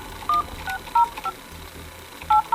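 A series of short electronic telephone keypad tones beeps at an uneven pace, six or seven quick dial tones over a quiet background.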